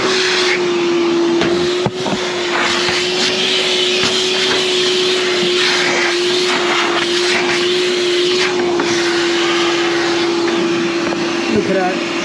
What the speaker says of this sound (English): and now we're gonna vacuum clean all these